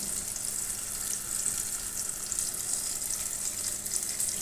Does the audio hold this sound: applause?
no